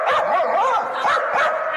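A wiener dog barking and yipping in quick, loud repeated bursts, close by, with whiny rising and falling tones between barks.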